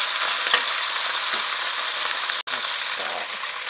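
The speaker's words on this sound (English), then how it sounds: "This is the sound of our oil searing our chicken." Loud, constant crackling sizzle of chicken searing in very hot oil for a stir-fry, close up, with a brief cut partway through.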